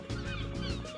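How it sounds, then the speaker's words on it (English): Cartoonish geese or fowl honking in a village within the Steambot Chronicles video game, several repeated calls close and loud over a steady game background hum, without any speech. "Birds."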